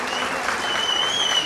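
A congregation applauds a newly ordained priest at his ordination ceremony, a brief burst of dense, continuous clapping from many people, with tonal sounds running beneath it.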